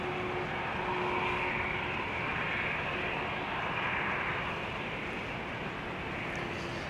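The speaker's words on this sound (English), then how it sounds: "Air France flight 1445 to Paris, which is an A321. Doing the zigzag to get to runway 18 left." An Air France Airbus A321 taxis at Schiphol airport, a steady broadband jet-engine rumble with a faint constant whine, holding even loudness throughout with no voices.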